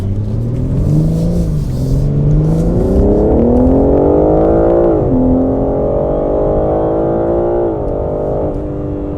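BMW G80 M3 Competition accelerating hard along a canyon road, its engine note climbing steadily through gears with brief dips at shifts, a loud continuous revving drone heard from inside the car.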